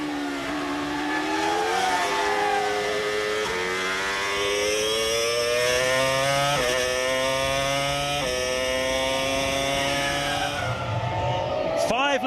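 Formula One cars racing at the 2003 British Grand Prix at Silverstone, with high-pitched V10 engines wailing and shifting through gears as several cars pass close by in a continuous, loud blend.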